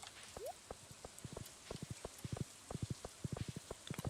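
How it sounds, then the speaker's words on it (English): Horse hooves in the Stardew Valley video game clip-clop in quick, quiet, evenly paced footfalls, with a brief rising chirp near the start and no talking. "And then hop on the horse."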